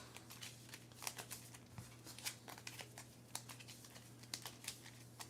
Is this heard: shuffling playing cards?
yes